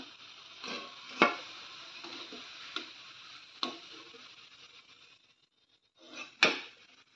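Potato samosa rolls frying in hot oil, a steady close sizzle with several sharp knocks and clinks as they are turned, fading to near quiet before one last loud clatter.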